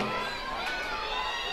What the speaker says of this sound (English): Still a pretty good crowd here